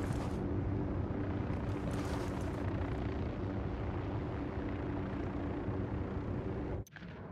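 Helicopter from the Ghost Recon Wildlands video game, a loud steady rotor and engine drone filling the whole clip with no talk, then cut by a brief sharp click near the end.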